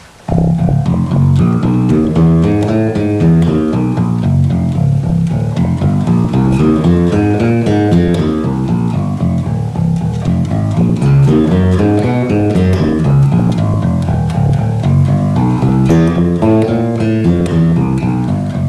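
A plucked bass line repeats a steady finger pattern, continuous and fairly loud, with no talking over it.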